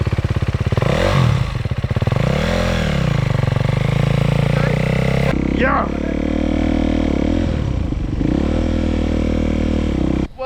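Dirt bike engine revved hard with the throttle, loud and close, rising and falling in pitch with several surging revs and clattering, while people shout and talk over it.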